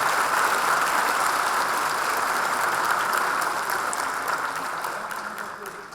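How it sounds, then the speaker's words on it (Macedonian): Applause from an audience at an 80th-anniversary ceremony of a gymnasium school in Kumanovo, a broad sustained clapping that carries on and slowly fades toward the end. "Би сакала со еден огромен аплауз да ги поздравиме"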